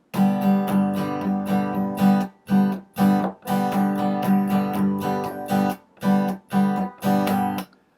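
Syncopated thumb and finger guitar strumming with rhythmic down and up strokes, skipped beats leaving brief gaps; close, fairly loud and alone.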